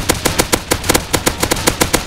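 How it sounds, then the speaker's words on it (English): Rapid automatic gunfire in the modded survival game Rust, a steady stream of about a dozen evenly spaced, loud, punchy shots fired in quick rhythm with no talking over them. "I'm getting shot for no reason."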